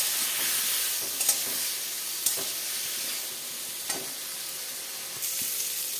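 Ground spice masala of cumin, coriander, chili and turmeric frying with a little water in a pan, a steady bright sizzle with occasional stirring scrapes and clinks, close and continuous.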